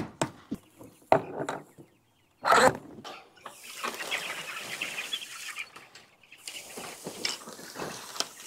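Meat bird chickens are handled and moved on a small farm, with bursts of wing flapping, scuffling and thumps. Short clucks come through at close range amid the rustling.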